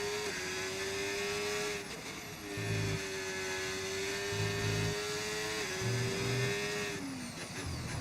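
A Ferrari Formula 1 car in the F1 25 racing game at Silverstone: a steady high engine drone with shifting pitch, short downshift dips and sharp gear-change steps, all up close and without speech.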